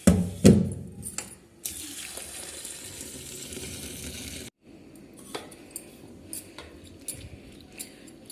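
Fenugreek, spinach and bathua greens are swished and rinsed in a vessel of water, producing continuous watery sloshing and splashing up close, with a sharp clatter at the start and a brief pause midway.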